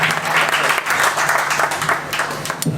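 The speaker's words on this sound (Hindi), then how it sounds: "बहुत जोरदार तालियों से स्वागत कीजिए धर्मवीर सिंह का।" An audience at a Hindi kavi sammelan poetry recital breaks into loud, sustained applause welcoming poet Dharmveer Singh, dense clapping filling the whole stretch at steady volume.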